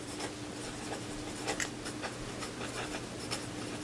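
A pencil writes on a post-it note, soft close scratchy strokes in short irregular bursts over a quiet background.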